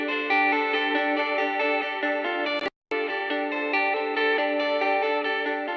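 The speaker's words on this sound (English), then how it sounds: "Tapping really can give you a very interesting high interval jumping sound that it's much more difficult to do without tapping." Tapped electric guitar phrases run through delay and reverb, playing fast, high, interval-jumping notes in a dense, sustained, effect-washed texture that cuts out briefly midway and resumes, with no voices.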